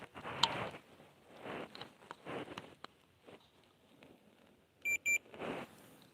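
A soldered Space Invaders handheld game kit gives a short pair of quick electronic beeps near the end, faint and close, after scattered handling noises and quiet clicks.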